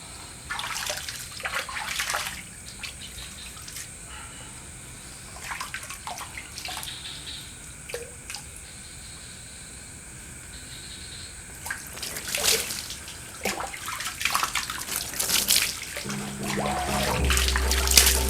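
Water poured over a body while bathing at midnight, in bursts of splashing and trickling that rise and fall, loudest toward the end, with no talk.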